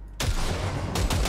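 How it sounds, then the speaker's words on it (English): A short, loud burst of rapid gunfire in the Cyberpunk 2077 video game, a dense crackling volley that starts abruptly and runs for about a second, with a second sharper report near the end. "Fire a short burst into it."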